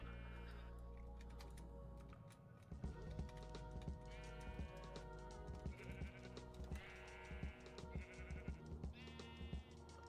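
Several sheep in Minecraft bleat in short repeated bursts from about three seconds on, fairly close and loud, over a steady blocky game background and faint footsteps.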